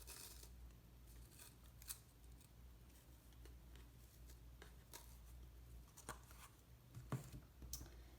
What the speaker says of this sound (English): I'm going to cut this loop so that we get two separate strings.